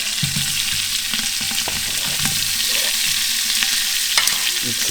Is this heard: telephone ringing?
no